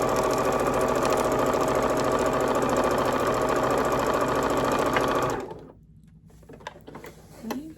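Sewing machine stitching through nested seams of quilt blocks, a steady close rapid whirring hum for about five seconds that then stops abruptly, leaving faint handling noises.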